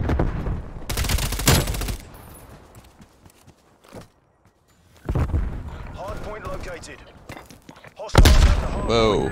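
Rapid gunfire from the video game Call of Duty: Black Ops Cold War comes in loud dense bursts near the start and at the end. Someone talks and exclaims between the volleys.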